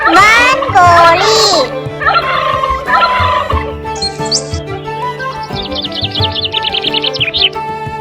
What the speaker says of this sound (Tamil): வான்கோழி